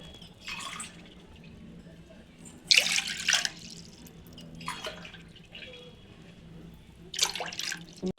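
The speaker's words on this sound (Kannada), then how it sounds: "ಮೂರು ಗ್ಲಾಸ್ ನೀರು ಹಾಕ್ಕೊತಾ ಇದ್ದೀನಿ" Four separate pours of water splash into a cooking pot, each lasting about a second, with quiet pauses between them, while preparing chow chow bath.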